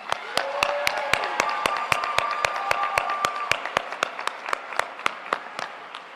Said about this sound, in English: Please give these guys one more round of applause.